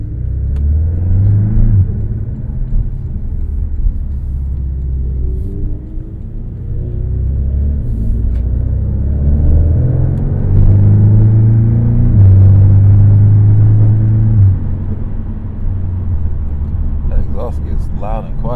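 A base-model Porsche 718 Cayman engine drones steadily while driving around the block, a deep rumble that rises and eases with the throttle under continuous talking from people inside the car.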